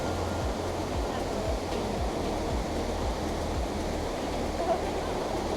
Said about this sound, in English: This is the most awe-inspiring waterfall.